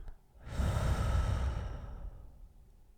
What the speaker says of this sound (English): Let's start with a deep breath.